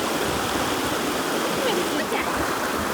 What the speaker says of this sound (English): This river is a special place for me and my family